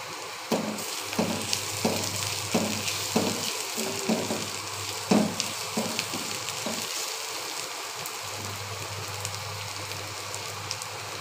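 Bombay chillies and chopped ginger frying in oil in a pan, a continuous crackling sizzle with a run of regular scraping stirs in the first half that fade out, leaving only the steady hiss.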